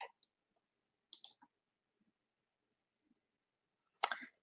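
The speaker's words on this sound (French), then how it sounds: "Donc, si je clique" Computer mouse clicks on a website link, a few sharp isolated clicks spread over a quiet stretch, with a louder burst of clicking near the end.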